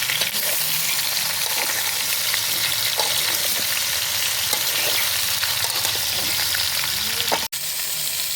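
Mango pieces for a sweet, sour and spicy pickle fry in oil in an overfull wok, hissing in a loud continuous sizzle as a spoon stirs and scrapes through them, with one sharp clack near the end.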